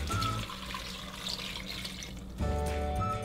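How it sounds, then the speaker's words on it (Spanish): Water pours steadily from a tap into a pot of guajillo and morita chiles with garlic, a close, continuous splashing stream that briefly pauses and then resumes. "y le voy a agregar agua."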